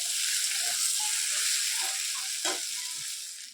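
Potato, soybean and egg curry bubbles and sizzles in a pan, giving a steady close hiss with small pops and one brief louder splutter.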